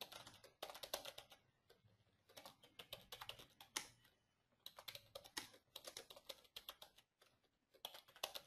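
Rapid, fairly quiet clicking of keys on a computer keyboard, typed in quick bursts with short pauses between them and no talking.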